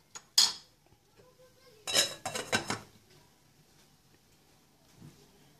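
A metal lid clanks onto a pan on a stovetop, with a sharp clatter and then a short burst of rattling contact before the kitchen falls quiet.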